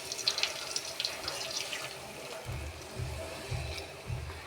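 Water poured from a tap into ground masala paste for a homemade ready-made salna, a steady splashing trickle up close with a few heavier gurgling pulses toward the end, no talk.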